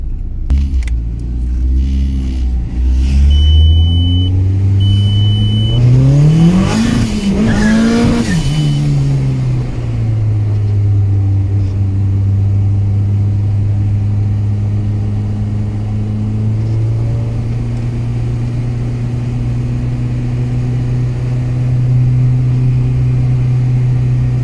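A turbocharged VW Mk1 Golf accelerates hard while struggling for traction, engine note climbing through a rising wail and tyre chirp before settling into a steady loud drone, close and unaccompanied by talk.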